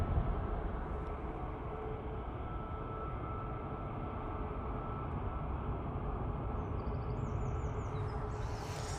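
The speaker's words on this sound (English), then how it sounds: "EasyJet departing now." An EasyJet airliner departs Manchester Airport, its jet roar a steady, loud, continuous rumble throughout with no talk.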